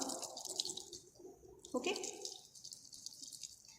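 Water trickles and drips into a test tube to dissolve a salt sample in a chemistry practical, a faint, close, intermittent splashing and dribbling with a brief spoken word partway through.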